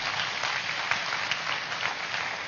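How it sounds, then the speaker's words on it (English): An audience at an intense meditation day applauds together, giving a continuous wash of clapping that holds steady and moderately loud throughout, with no talking. "A big clap to each one of you."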